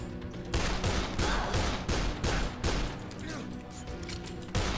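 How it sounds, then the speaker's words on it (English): AK rifle fire in the zombie video game Dead Island comes in several loud bursts of rapid shots separated by short pauses, close up, with some game noise between the bursts. "Oh, the AK does a lot of damage."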